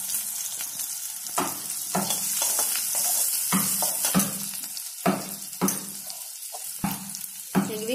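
Onions sizzle and fry in a pan, with green chillies added earlier, for bread masala while a utensil scrapes and stirs in repeated strokes over a steady hiss.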